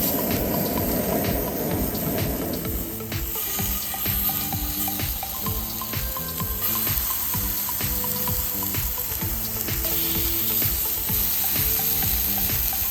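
Seasoned pork searing in a cast iron pan, a loud, continuous sizzle that stays close and even, with occasional stirring scrapes and no voices.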